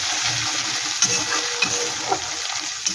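Ginger, garlic and green chili frying in a pan, a steady loud sizzle with occasional stirring scrapes, heard alone without speech.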